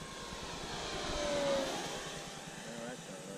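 An FMS F4U Corsair RC model airplane flies its landing approach, a steady propeller drone that swells slightly as it passes nearer and then fades, heard outdoors with a voice faintly underneath.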